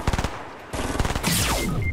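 Fortnite gunfire plays close and loud as a rapid burst of automatic shots, a short pause, then another volley trailing into a whooshing, ringing tail.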